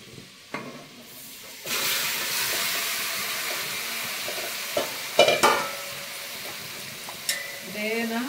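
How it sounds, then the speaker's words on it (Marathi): Chicken hits hot oil in a pan over a wood-fired stove with a sudden loud sizzle that keeps hissing steadily, broken by a few sharp clanks of a utensil against the pan. "तर हे चिकन घालून घेते"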